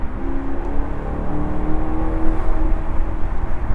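A Maserati GranTurismo Convertible with a 4.7-liter 454-horsepower V8 pulls hard in third gear, a loud, steady low engine drone with a rising tone, heard from inside the car without talk.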